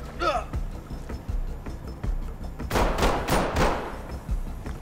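Heavy gunfire in the tactical shooter game Ready or Not, with repeated sharp bursts of shots, a dense volley near the middle and trailing rattles, under occasional voices.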